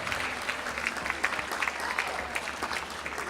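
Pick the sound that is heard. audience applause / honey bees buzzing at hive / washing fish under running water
audience applause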